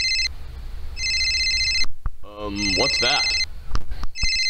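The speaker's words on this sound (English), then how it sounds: "Oh, that's my phone." A mobile phone ringtone plays in repeated bursts of bright electronic tones, with a short pause in the middle where a voice speaks briefly before the ringing resumes.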